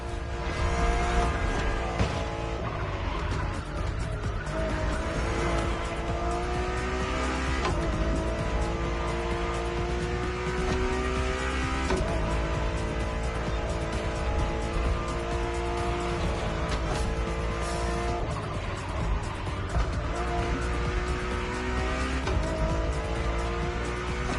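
Ferrari Enzo with carbon brakes racing in The Crew Motorfest, its engine roaring steadily and continuously at close range, with tire squeal and skidding woven through a dense, unbroken drive.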